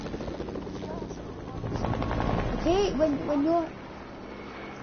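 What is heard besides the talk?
helicopter in a video game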